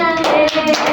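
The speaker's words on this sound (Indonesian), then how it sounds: "Tepuk tangan." Children in a classroom clap their hands together, a short burst of three or four loud, close claps over a sustained tonal background.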